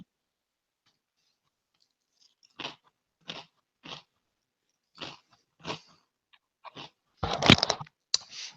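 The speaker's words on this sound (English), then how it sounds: "Can you hear me chewing my potato chips?" Potato chips being chewed close to the microphone give sharp, separate crunches, about a dozen bites spaced irregularly across the quiet, with a denser burst of crunching near the end and no talk over them.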